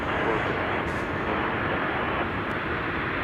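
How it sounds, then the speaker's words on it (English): A Lufthansa Airbus A340-600 airliner arriving at Chicago O'Hare, a steady, loud broadband jet roar holding constant throughout with no breaks. "I think there's an Airbus A340 over here"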